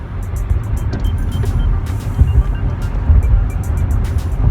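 A Toyota Celsior accelerating from 60 to 100 km/h on the road, with a steady low engine and road rumble that swells slightly and holds throughout, plus faint higher ticking above it and no talk.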